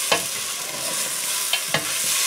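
Vegetables for julienne soup fry in a pot with a steady bright sizzle, while a utensil makes a few quick stirring scrapes and clinks close by.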